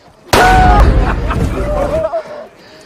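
A gunshot bursts loudly in a World War II film scene with Nazi soldiers, a sharp blast followed by a reverberant, rumbling tail and clattering sounds, with some voices mixed into the chaotic action.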